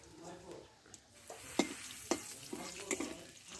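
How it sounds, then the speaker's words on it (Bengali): Whole spices (one cardamom pod, two cloves, two dried red chilies and cumin) frying in hot oil for a bitter gourd masala curry, giving a faint steady sizzle with a few sharp crackles and stirring clicks, no talk. "ভালো ভালোভাবে আমি একটু লালচে করে ভেজে নেব"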